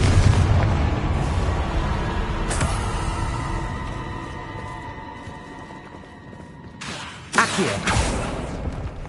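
A Confringo fire spell bursts in Hogwarts Legacy, a loud low boom in a dense battle mix, followed a few seconds later by a second sharp blast with crackling debris.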